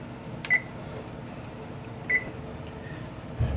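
An oven control panel emits two short, clear beeps about a second and a half apart while it is set to broil for browning buttermilk cornbread, over a steady low kitchen hum.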